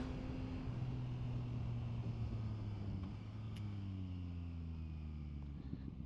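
A Yamaha MT-09 Y-AMT motorcycle engine pulls in second gear just after a downshift, a steady, fairly loud low drone with tones that slowly rise and fall, heard alone.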